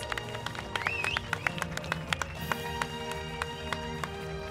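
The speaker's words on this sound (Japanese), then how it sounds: "はい、それでは拍手お願いします。" Scattered audience applause at the award ceremony of the 30th Yomitan Village Harii dragon-boat race in 2014: a run of sharp hand claps spaced across the clip, set against steady background music.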